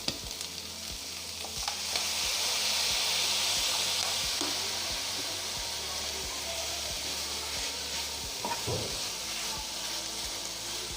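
Chicken sizzling and frying in a pan after a splash of soy sauce, with a steady loud hiss and repeated scraping, stirring strokes throughout, no talk.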